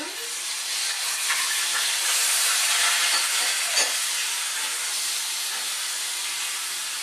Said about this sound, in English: we're going to go ahead and add our vegetables all at once here. The mushrooms